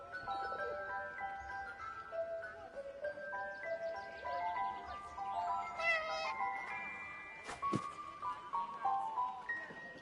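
A cat in the 11-11 Memories Retold video game meows repeatedly in several drawn-out, wavering cries, soft and close, with a brief bright clatter near the end over quiet ambience.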